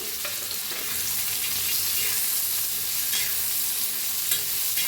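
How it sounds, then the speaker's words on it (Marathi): Steady sizzling and scraping as coconut and seeds are stirred and dry-roasted in a hot pan, continuous and close, with no talking. "आता त्याच्यातच टाकूया खोबरं बी भाजून घेऊया आपण।"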